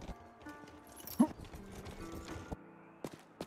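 Horse hooves clip-clopping with a brief whinny in the western video game Rustler, quiet and uneven footfalls with a short neigh partway through, over faint game ambience.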